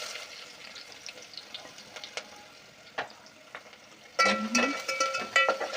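Bay leaf, onion and green chilli are fried in oil for a potato and brinjal dish. Soft crackles and stirring clicks come first, then a louder burst of sizzling near the end as ingredients hit the hot oil.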